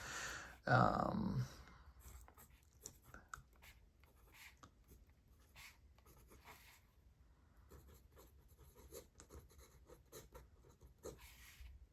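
A broad-nib Lamy Safari fountain pen scratches over notebook paper in short, soft strokes, faint and close, after a brief loud rustle at the start.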